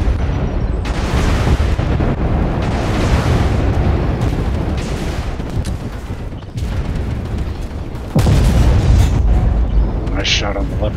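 A tank cannon round slams into a Leopard 2AX during a combat video game, a loud rumbling boom among continuous battle noise, with a second heavy blast near the end while a voice talks over it.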